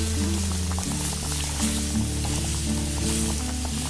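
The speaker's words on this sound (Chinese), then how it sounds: "大概20毫升的料酒加进来，增加香味，还可以去掉猪肉的腥味哦" Cooking wine splashes into pork belly frying in its own rendered lard in a wok, giving a steady close sizzle under continuous background music with no talking.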